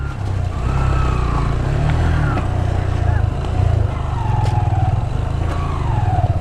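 A car engine drones low and steady on a drive near Mugarpir Waterfalls in Kanrach, Balochistan, running continuously up close while people talk over it.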